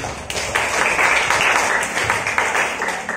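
A church congregation claps during a sermon, giving a short, busy burst of applause that holds fairly even throughout.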